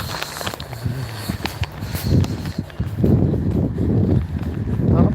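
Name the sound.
footsteps walking outdoors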